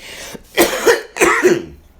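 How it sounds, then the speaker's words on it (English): Two pairs of harsh, close coughs, each a quick double burst, with a short pause between them. "whenever I have a little cough"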